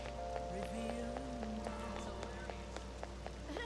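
Rain in the Persona 5 Royal video game, a faint steady patter of drops on surfaces with scattered louder drips, beneath a soft tonal background hum.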